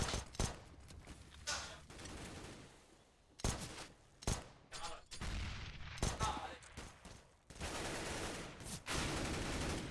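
Rapid bursts of pistol and M4 rifle fire in a competitive shooter match between Team RVN and Team Millenium, crackling in repeated volleys at close and mid range, with brief lulls between exchanges.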